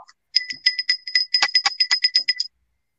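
A vintage bell with a non-rounded shape rings in a quick series of about a dozen bright, metallic strikes in an even rhythm, close and clear against silence.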